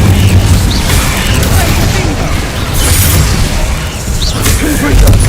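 An Incendio fire spell in Hogwarts Legacy erupts as a loud, dense roaring burst of flame and booms that fills the whole stretch, with crackling bursts over it.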